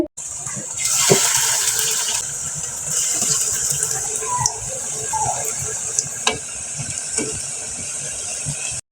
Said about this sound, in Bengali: এখন এটা তেলে সুন্দর করে ভেজে নিতে হবে।